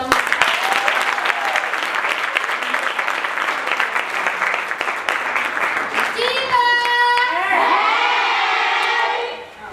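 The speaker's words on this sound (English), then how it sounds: "Can you give her a round of applause?" Audience applause after a talk at an ICT empowerment launch event, loud dense clapping with some cheering for most of the stretch, then fading into crowd murmur and a few voices near the end.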